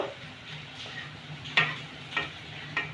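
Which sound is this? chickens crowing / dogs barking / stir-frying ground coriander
stir-frying ground coriander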